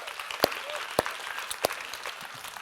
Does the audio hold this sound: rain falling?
no